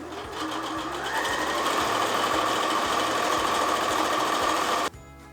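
A sewing machine runs steadily for close to five seconds, joining two fabric strips for a quilted patchwork bag with a short stitch length, then cuts off abruptly. The whirring drive and rapid needle rhythm stay loud and close, with no talking.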